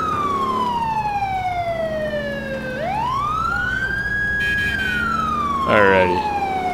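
A police car siren in the video game GTA IV wails loud and close, sweeping down slowly, then rising and falling in long glides, with a brief burst of horn-like yelps near the end over traffic noise.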